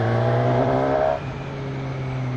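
A Suzuki Katana motorcycle with a GSX-R engine revs loudly and close by, then drops to a steadier, lower drone partway through.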